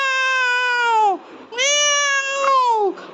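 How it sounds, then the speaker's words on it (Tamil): A big cat gives two long, drawn-out meows, loud and close, each with a wavering pitch that slides downward at the end. There is a brief pause between the two calls. "ஒரு பெரிய பூனையோட சத்தம் கேட்டுச்சு"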